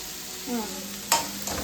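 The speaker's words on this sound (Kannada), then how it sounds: "ಇದು ಚೆನ್ನಾಗಿ ಹೀಗೆ ಫ್ರೈ ಮಾಡ್ಕೊಳ್ಳಿ" Tomato mixture frying and being stirred in a pan, a soft steady sizzle with a couple of sharper scrape or clatter accents near the end, fairly quiet and close, no voices.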